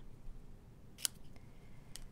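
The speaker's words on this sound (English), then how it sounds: "our scissors to angle cut these, the ends" A pair of scissors makes one sharp, quiet snip as it angle-cuts the end of a strip for a handmade otter birthday card, with a fainter second click after it against low room hiss.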